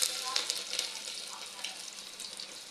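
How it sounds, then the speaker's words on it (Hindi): Onion, cumin seeds and garlic frying in oil in a home kitchen pan, a bright, close hiss and sizzle with small crackling pops that eases slightly toward the end. "ये भुन गई है प्याज"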